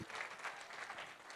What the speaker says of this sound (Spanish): Fuertes aplausos al Rey.